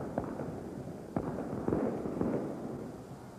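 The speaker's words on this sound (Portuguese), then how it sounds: "Torcida do Palmeiras começa a soltar os foguetes que guardou para a classificação" Fireworks and rockets set off by Palmeiras fans in a packed football stadium during a 1983 Brasileiro match against Vasco, several sharp bangs over a steady crowd roar, moderately distant.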